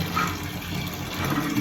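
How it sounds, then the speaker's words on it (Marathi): Tap water gushes steadily into a bathroom bucket or tub, filling it for washing dirty floor mats, a continuous close splashing rush with no talk. "हे पाणी भरायला ठेवले"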